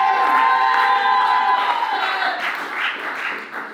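A comedy roast crowd cheers, whoops and applauds as a roast comedian is introduced, a loud dense wash of voices and clapping that gradually thins and softens toward the end.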